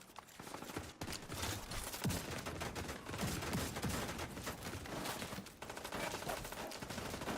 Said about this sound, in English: Wait, why are they shooting at me?